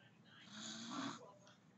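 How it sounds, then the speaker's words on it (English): A single drawn-out snore, a raspy, buzzing breath that swells and fades over about a second, with quiet room noise around it. "I wonder, is that an open mouth snore, or is that a closed mouth snore?"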